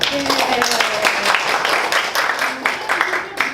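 A room of people claps at a Toastmasters table topics session, steady moderate applause under some overlapping talk and voices throughout.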